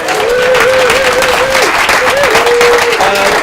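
A studio audience at a live charity show applauds itself, loud sustained clapping with crowd noise and a tonal voice or music line running through it.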